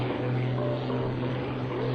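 Firebirds Delta Team aerobatic propeller airplanes pulling into a vertical climb at an air show, a loud sustained droning engine tone with shifting pitch, steady throughout.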